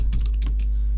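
Quick keystrokes on a computer keyboard, a short burst of several close clicks over a low background hum, with no voices.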